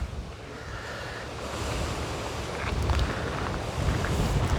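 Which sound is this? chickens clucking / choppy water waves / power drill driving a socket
choppy water waves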